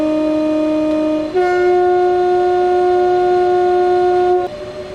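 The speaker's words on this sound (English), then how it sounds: "I'll let you listen to the sounds for a second as well." A Class 395 Javelin high-speed train in Train Sim World 3 gives a steady two-tone tonal sound, pitch shifting once and then dropping away near the end, loud and close with no talk.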